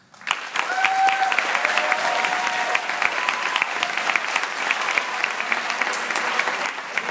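Sustained applause from a large convention crowd fills the room, dense and steady, with scattered whoops rising over the clapping.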